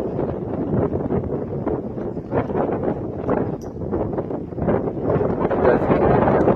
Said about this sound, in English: I just thought it's really windy, we'll just stop and show you this panoramic view.